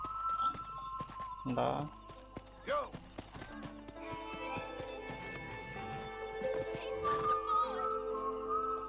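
Horse hooves clip-clopping alongside snorts and a whinny in the Red Dead Redemption video game, layered with in-game music and a voice speaking over the top.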